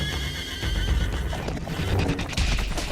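Horses whinny loudly and close while hooves clip-clop over a busy, rumbling background with no talking.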